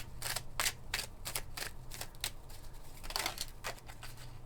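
Cards are shuffled by hand in rapid riffling bursts, a string of crisp papery flutters with brief gaps, close and fairly quiet, no talking.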